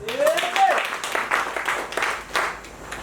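A church congregation claps and cheers for Jesus during a bishop's sermon, a moderate burst of applause under a preacher's voice.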